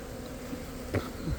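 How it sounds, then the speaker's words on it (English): Honeybees buzz around a nucleus hive inside a shed with its window taken out in southeastern Michigan. A steady, close insect drone fills the clip, with a couple of brief louder passes of individual bees. No one speaks. "you can probably hear the bees"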